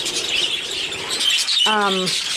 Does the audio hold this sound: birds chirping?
yes